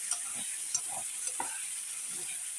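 A spice paste with green chillies cooks down in oil for a pabda fish curry, giving a soft, steady sizzle with a few faint stirring taps, quiet and close, without any talking.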